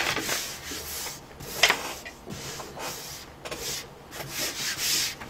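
Small wire strands left from trimming being brushed and wiped off a desk, soft scratchy rubbing strokes in irregular bursts, close and quiet with no talking.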